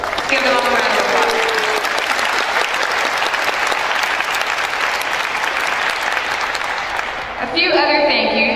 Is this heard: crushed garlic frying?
no